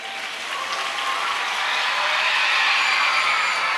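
An academy audience claps together in a dense, steady wave of applause that stays loud throughout and swells slightly toward the end.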